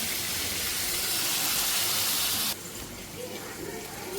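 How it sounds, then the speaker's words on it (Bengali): Prawns frying in hot oil in a pan give a loud, steady, close sizzling hiss that abruptly drops to a softer sizzle partway through. "এখানে হচ্ছে মাছ ভাজা"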